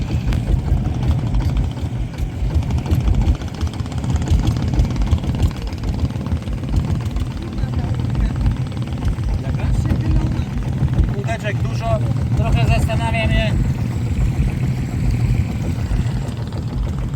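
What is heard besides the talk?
diesel engine of a boat in Thailand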